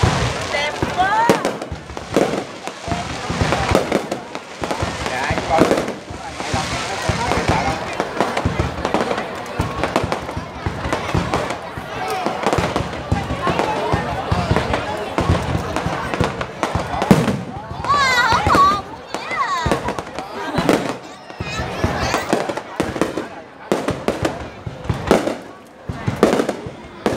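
New Year's Eve fireworks burst in a rapid, dense series of loud cracks and booms, with people talking nearby throughout.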